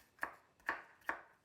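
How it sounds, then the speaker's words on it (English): A pestle strikes onions and scallions in a mortar, giving three evenly spaced dull thuds in quick succession, close and fairly soft, with no voices. "Pounding up onions and scallions"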